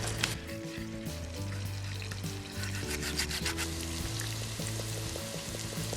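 Lentil-and-chorizo ingredients with minced pork fry in a pan, a steady close sizzle with scraping and clacking as they are stirred, running continuously with no talk.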